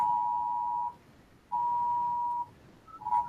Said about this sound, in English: I guess we got a dust storm warning.